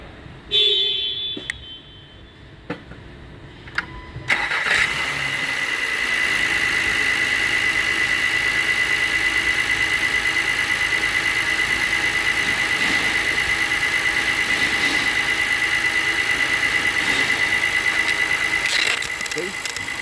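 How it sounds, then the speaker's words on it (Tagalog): A car engine starts after a timing belt replacement, then settles into a steady, fairly loud idle with a constant whine that runs to the end, following a few clicks and quiet handling noises. "Okay, so paandarin na natin, natapos na natin yung timing belt."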